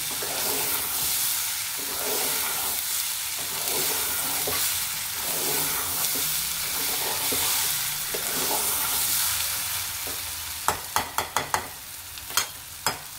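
Tomatoes cooking down in a pan for a dal and tomato curry, a constant soft sizzle with occasional stirring, then a run of sharp spoon taps against the pan near the end, with no voices.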